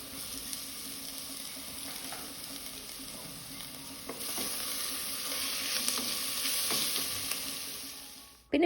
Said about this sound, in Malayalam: അതിൻ്റെ പച്ചമണമൊന്നും മാറി കിട്ടുന്നവരെ നമുക്ക് സോട്ട് ചെയ്യാം